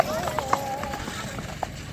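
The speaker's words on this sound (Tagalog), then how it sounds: "Daming kabayo dito, andun yung iba." Several horses trot nearby, hooves clip-clopping in a loose, uneven rhythm while people talk over them.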